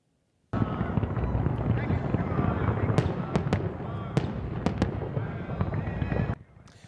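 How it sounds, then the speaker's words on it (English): Fireworks opening the implosion of the Tropicana casino in Las Vegas: a dense, continuous barrage of crackling bursts with several sharp louder bangs, loud and sustained, then cutting off abruptly. "The legendary Tropicana went out in true Vegas style early this morning with fireworks as the opening act for the implosion."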